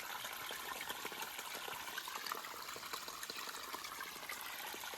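A babbling brook along the Appalachian Trail, water flowing and trickling continuously over rocks with a steady rushing wash and small bubbling splashes, fairly close and unbroken throughout.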